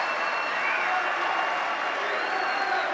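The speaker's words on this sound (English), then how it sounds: "people standing and cheering" A crowd of people on their feet cheering and applauding at a political rally, a steady dense roar of voices and claps held at even loudness throughout, with no clear break.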